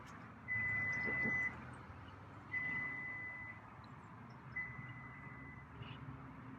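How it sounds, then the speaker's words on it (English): A microwave oven gives three evenly spaced long electronic beeps, clear but fairly quiet over a soft indoor background. "Sorry for the beeping."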